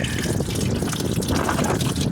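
Engine oil pours from the drain of a 2012-2014 Dodge Charger/Challenger 392, a close, continuous splattering trickle of liquid outdoors on a windy day, with no voices.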